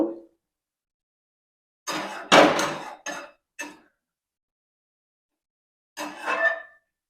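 Rohu fish curry with poppy-seed paste is stirred in a pan: a few separate close scrapes and knocks of a spatula against metal in short bursts, with silent gaps between them.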